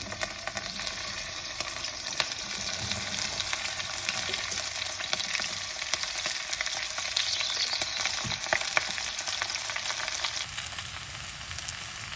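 Okra fries in oil in a karahi over a medium flame, a dense, even crackling sizzle holding steady and close without pause.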